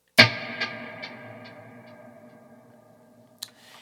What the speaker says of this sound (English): When I switch to the next snapshot, the reverb gets way thicker and the delay comes in.